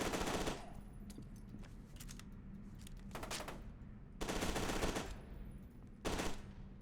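Bursts of automatic gunfire in Voices in the Void aimed at a cleaner's fuel canisters, several rattling volleys of varying length separated by quieter gaps with scattered single shots.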